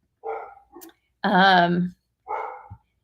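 Dogs bark close by in a few separate bursts, one longer and louder bark standing out between shorter yips, with no talking over them.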